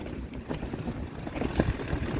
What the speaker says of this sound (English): the wind's really strong out there